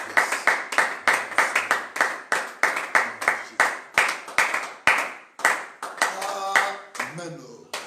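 A church congregation claps in unison, a steady rhythmic run of sharp hand claps close by for several seconds, ending with a short sung or spoken vocal phrase.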